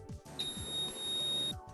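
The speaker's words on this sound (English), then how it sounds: "you will hear a beep signalling the end of the phase" A thin, high electronic beep holds for about a second against a low mechanical hum, fairly quiet and steady.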